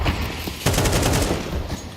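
Counter-Strike gunfire during an ESL Pro League match, a dense burst of shots that suddenly gets louder and then rattles on steadily through the rest of the moment, heard without talk.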